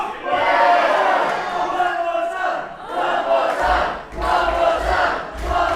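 Wrestling crowd at an Outcast Pro Wrestling show roaring and chanting loudly in sustained waves, swelling twice with heavy low thumps near the end as fans rally behind a wrestler.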